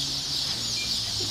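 Tens of thousands of baby chicks at a poultry hatchery chirp at once, a dense, continuous high-pitched peeping that fills the room, loud and steady with no talk.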